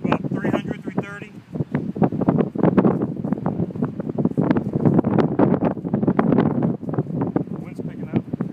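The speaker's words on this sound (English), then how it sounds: "Wind's picking up." Wind blowing across an open disc golf field, buffeting the microphone with steady rumbling gusts throughout, while someone speaks briefly near the start.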